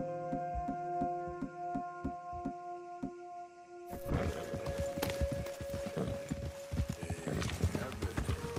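Horses galloping in Red Dead Redemption 2: steady, evenly spaced hoofbeats give way to a busier, faster clatter of hooves, with voices talking over the riding.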